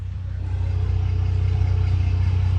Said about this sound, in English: So now if I rev it, there's still a little pop.